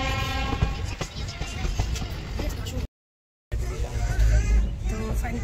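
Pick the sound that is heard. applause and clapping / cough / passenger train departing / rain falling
passenger train departing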